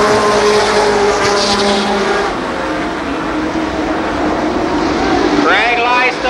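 Race cars roar loudly at the start of a 35-lap race at Columbus Motor Speedway, a dense engine drone with rising revs near the end, heard under a track announcer's continuous commentary.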